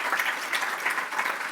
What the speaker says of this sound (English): So, round of applause for all those finalists.